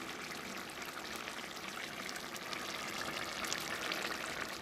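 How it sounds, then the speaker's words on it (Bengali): Cooked chuno fish chochchori sliding and pouring out of a pan, a soft continuous sizzling, trickling wash that stays fairly quiet and even throughout, with no talking. "তো চলো এখন আমি ঢেলে নিই তৈরি হয়ে গেছে"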